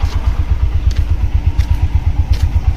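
A single-cylinder engine of a heavily loaded vehicle thumps in a steady, rapid rhythm, loud and close, with occasional rattles and clatter over the chugging.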